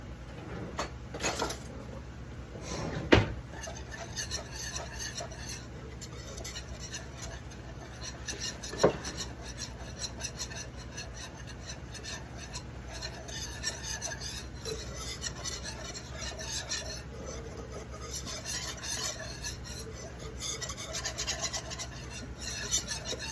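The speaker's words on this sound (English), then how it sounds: "And we're gonna whisk this." Flour mixture for enchilada sauce being whisked in a pan, a steady scraping rasp that runs on and off close up, with a couple of sharper knocks early on.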